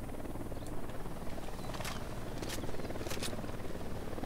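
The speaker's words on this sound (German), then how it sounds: "Hier ist auch ein Helikopter." A helicopter in the video game Ghost Recon Wildlands gives a faint, steady whirring rumble that holds evenly throughout, with a few brief clicks on top.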